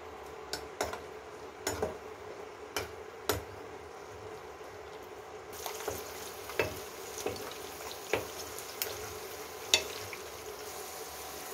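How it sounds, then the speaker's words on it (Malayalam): A sardine pickle with ginger and green chilli stirred over low heat, with a soft constant sizzle and a dozen or so light spoon clicks against the pan at irregular intervals, fairly faint. "ചെറു ചൂടോടു കൂടി നമുക്ക് ഇതൊന്ന് ഇളക്കി കൊടുക്കാം"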